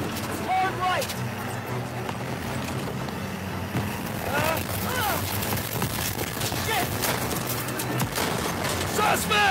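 Gunfire and battle noise in Call of Duty WW2 during a jeep mission, repeated loud shots over a rumbling vehicle engine, dense and continuous, with shouted voices mixed in.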